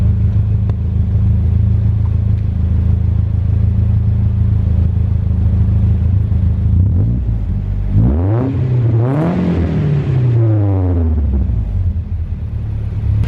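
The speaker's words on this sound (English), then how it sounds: "But we'll go ahead and give it a quick rev." A 1993 Nissan 240SX coupe idles with a low, steady exhaust rumble, then takes a few quick throttle blips that climb and fall in pitch before settling back to idle, loud and close with no talking.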